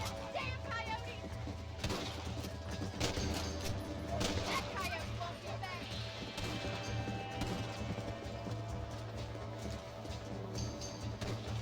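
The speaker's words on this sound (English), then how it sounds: "Ah, the horses don't hop over things." Horse hooves clip-clop steadily in the Western game Red Dead Redemption, a continuous rhythmic trot over a low droning score with some scattered distant gunshot-like cracks, and someone talks over it.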